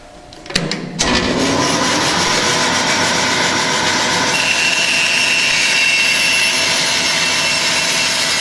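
A bandsaw cuts a piece of wood fed along a miter gauge, a sharp start followed by a steady, loud whine and rushing hiss of the blade that runs on unbroken, close by.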